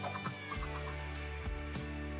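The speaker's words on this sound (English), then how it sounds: "maybe I can grow one of these little chickens into a big one" Chickens in Minecraft cluck in a few short, soft bursts over a steady game background hum, with no voices.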